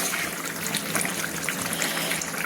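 Sweet pumpkin chhokka curry simmering in a pan, bubbling steadily with soft wet pops and gurgles, close and unbroken, with no talk.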